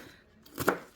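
A big knife chopping cooked bacon on a cutting board gives a single brief, near thunk-like chop in a quiet moment.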